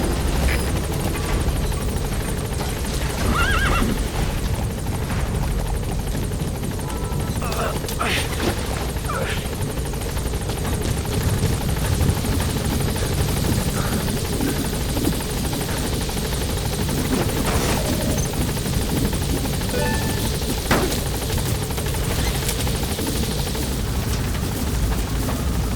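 A support helicopter in Metal Gear Solid 5 produces a loud, continuous rotor thrum that fills the whole stretch, with a radio voice speaking briefly over it.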